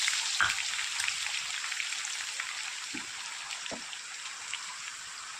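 Mustard seeds and garlic fry in hot oil as a tempering for a homemade lemon pickle, heard as a steady soft sizzle with a few faint pops and clicks, fairly quiet throughout.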